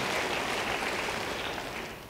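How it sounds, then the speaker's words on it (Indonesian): Church congregation clapping for God during a sermon, a soft, steady patter of many hands that fades slightly toward the end, with no speech heard. "Beri tepuk tangan bagi Tuhan"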